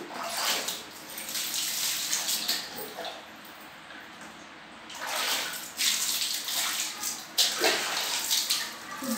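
Water from a tap runs over hair as it is wetted before shampooing, heard as a hissing, splashing stream that swells and drops in several bursts over a quieter trickle. Nearby and moderately loud, with no talking.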